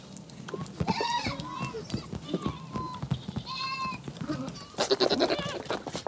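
Several goats bleat in wavering, nasal calls at close range, with a louder burst near the end, while a person talks underneath.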